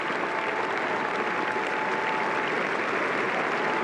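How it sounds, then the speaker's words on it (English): A cricket crowd at Headingley applauds steadily during the 1976 England v West Indies Test match, a dense, continuous wash of clapping that stays loud and even throughout. "gets a tremendous round of applause from an appreciative audience here at Headingley"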